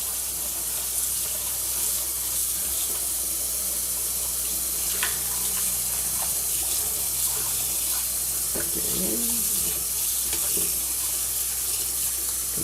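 Lettuce being washed by hand in a sink full of water, with a steady, close hiss of water and soft sloshing that runs throughout.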